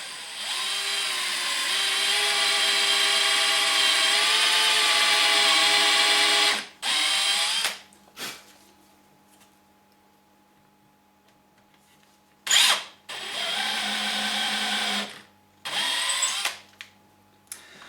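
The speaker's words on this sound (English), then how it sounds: "I can just start drilling, making sure I drill as square as I can." A power drill whines steadily for several seconds while drilling a hole in wood for a coat hanger, stops, then runs again in a few shorter bursts with quiet gaps between.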